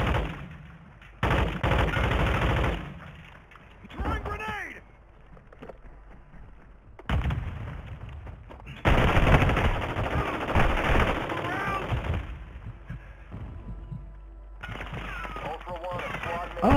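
Gunfire in the Call of Duty Warzone 2.0 video game: loud, dense bursts of automatic weapon fire in repeated stretches, close and harsh, with game radio voice chatter mixed in between volleys.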